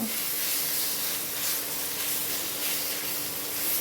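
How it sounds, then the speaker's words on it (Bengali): Brinjal mash with coriander leaves frying in oil for a Bengali begun bhorta, giving a steady, close hiss and sizzle that holds evenly throughout without talk. "এবার এটাকে আমি একটু ভালো করে ভেজে নেব"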